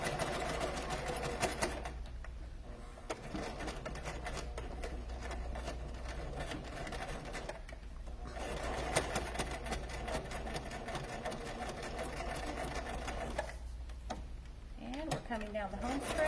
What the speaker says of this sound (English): Tucking that raw edge in and pulling it nice and tight while I sew the seam there.